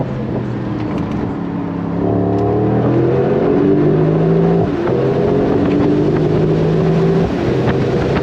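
A 2025 Mercedes-AMG SL63 S engine revs hard in first gear and climbs steadily in pitch, loud and close, with a rough, throaty growl that swells after a couple of seconds.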